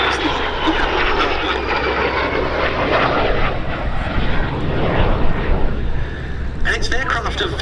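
A de Havilland Vampire jet, powered by Frank Halford's engine, roars past at the Duxford summer air show in June 2022. The loud, continuous rushing engine noise swells and shifts as the aircraft flies by.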